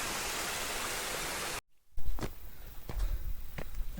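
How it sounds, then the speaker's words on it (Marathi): Monsoon water rushing steadily at Kalavantin Durg fort, a dense hiss that cuts off abruptly, followed by footsteps crunching on the trail. "हा पाण्याचा आवाजच ऐकून बरं वाटलं"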